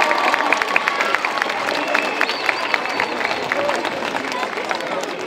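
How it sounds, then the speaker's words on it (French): Applause and crowd noise at a music contest award ceremony, moderate clapping mixed with babbling voices that continues steadily. "Un peu plus fort, parce que je trouve que les applaudissements, c'est un peu juste."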